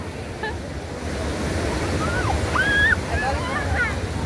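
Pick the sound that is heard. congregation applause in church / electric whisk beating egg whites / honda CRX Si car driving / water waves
water waves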